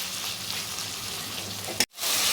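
Spice paste with ginger and garlic frying in a pan over low heat for a Bengali leafy-green chorchori, a steady soft sizzle throughout that cuts out abruptly near the end and then resumes.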